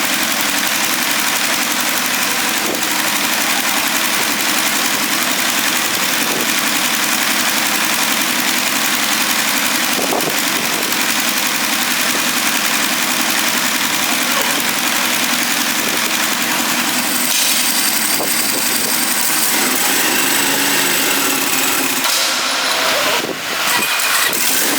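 A Ducati motorcycle engine runs on dyno rollers with a steady, loud mechanical roar and vibration that holds throughout, rising slightly in intensity near the end.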